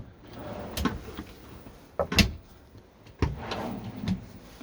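A deep drawer in a Weinsberg Carabus Fiat Ducato campervan slides open and shut several times, giving sharp close knocks and short rolling runs with brief quiet gaps between them.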